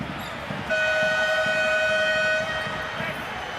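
During a Euroleague basketball game, a referee's whistle blows one long, steady, piercing blast for a carry violation over arena crowd noise and a commentator's voice.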